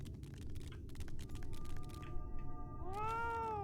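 A cat meows once in a drawn-out, whiny call in the video game Final Fantasy XIV: Shadowbringers, after a stretch of rapid keyboard clicking.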